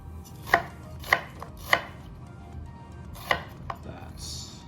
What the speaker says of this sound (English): So just roughly chop it into strips.